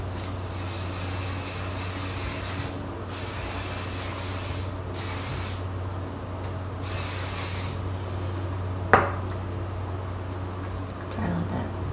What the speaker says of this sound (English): I spray a little hairspray